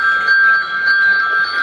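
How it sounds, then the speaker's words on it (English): Chimes in a Bluecoats 2025 drum corps show keep up a steady ringing pattern, bright and sustained with pulsing repeated strikes, loud and close. "chimes, I believe, have that little pattern, that ongoing triplet pattern."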